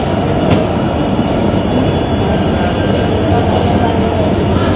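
Kamrup Express rolling out of Tinsukia station in India, a loud, steady rumble of wheels and carriage noise heard from inside the coach, with a brief squeal near the start.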